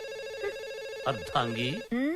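A phone rings with a bright electronic ringtone, repeating tonal bursts over a held background tone, fairly faint, with a voice briefly heard between rings.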